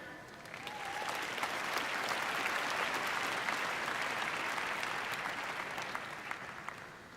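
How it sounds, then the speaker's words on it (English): A crowd claps through a university commencement ceremony at Northern Arizona University, the applause swelling within the first second into a dense, even wash that holds steady and fairly distant to the end. "Let's please give another big round of applause"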